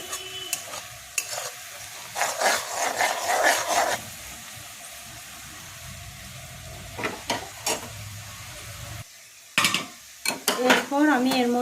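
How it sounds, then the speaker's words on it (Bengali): Ground black pepper is stirred in oil in a pan, with repeated close scraping strokes of a spatula over a soft sizzle and a few metallic clinks, and a brief voice near the end. "এরপর গোলমরিচটা দিয়েও একটুক্ষণ নাড়াচাড়া করতে হবে"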